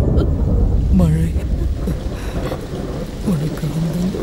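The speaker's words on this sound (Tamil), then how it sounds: "மழை" Steady rain with a low rumble of thunder runs through the whole stretch, dense and close, with faint tonal sounds above it.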